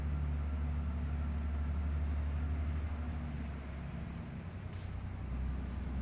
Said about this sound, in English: truck making noise in the background